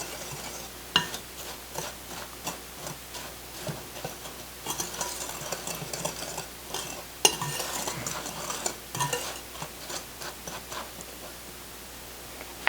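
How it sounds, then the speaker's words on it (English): Dry muffin ingredients, oats with baking powder and salt, are stirred together in a bowl for rhubarb apple muffins, giving a steady close scraping and rustling with soft knocks of the utensil against the side. "So I'm just going to mix these dry ingredients together."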